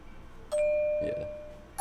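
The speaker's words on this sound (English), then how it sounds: "It's a Purity bell. It's called Music Box." A Music Box bell from the Purity instrument in a pluggnb beat rings out as a single clear, sustained chime that slowly fades, with a softer tone layered in midway.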